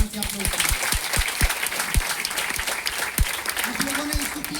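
A crowd at a meeting in Patna claps loudly and steadily, dense applause filling the space while a voice speaks over it with short bursts.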